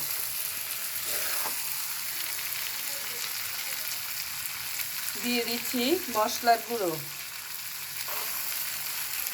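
Peas and half-boiled potatoes fry together in a pan with a soft continuous sizzle, while a voice briefly speaks in the middle over the cooking.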